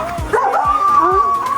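A dog yips and whines close by, with a few sharp short yelps threaded through a high, wavering whimper.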